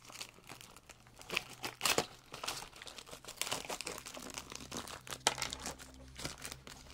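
Plastic-and-foil packet holding an apomorphine pump needle being peeled open by hand, giving close, continuous crinkling and tearing rustles with a few sharper crackles, no talk.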